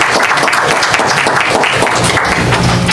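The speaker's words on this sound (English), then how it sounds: "I just want to give her an applause." Loud, close applause from the audience at a school board meeting, dense clapping filling the whole short stretch without pause.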